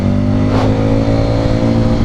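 A Street 500 motorcycle pulls hard in second gear, its engine note rising steadily and loud and close, continuous for a couple of seconds with no talk over it.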